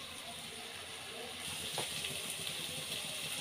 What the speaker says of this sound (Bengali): এই সবজিগুলোকে আমি প্রায় 5 মিনিটের মতো ভেজে নিব।